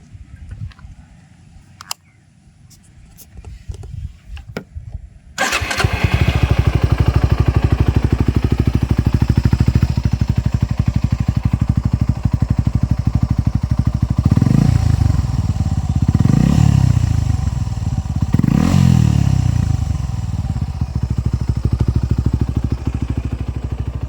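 A Suzuki Gixxer SF 250 with an SC slip-on exhaust shifts from faint ticking to a loud, steady running engine, then revs sharply three times with rising and falling throttle blips, close up.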